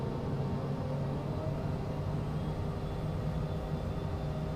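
A simulated aircraft engine in Microsoft Flight Simulator drones steadily at a constant, low-pitched rumble, holding an even level with no change in pitch.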